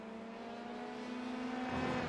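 Formula 3 car engine from a racing video game, a steady high droning whine that swells slightly louder near the end, heard alone without talk.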